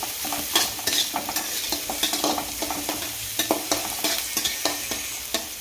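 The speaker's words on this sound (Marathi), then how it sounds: "सगळ्यात आधी मी कांदा थोडासा परतून घेते" Chopped onion stirred and sizzling in hot oil in a pan, a steady frying hiss punctuated by repeated sharp scraping clicks of a spatula, close and alone without speech.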